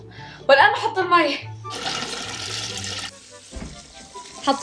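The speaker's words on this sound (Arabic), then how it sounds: "والان احط المي." Water poured from a container into a pot of raw rice for biryani, a rushing splash lasting a couple of seconds, with someone speaking before and clattering kitchen noises around it.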